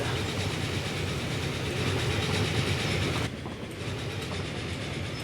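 A train in the Transport Fever 2 video game rolls along its rails with a steady, dense rumble and clatter that continues throughout, with a slight drop in loudness partway through, and no voices.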